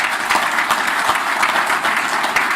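An audience at a conference applauds with steady, dense clapping that holds at an even level for a few seconds, fairly close and without cheering.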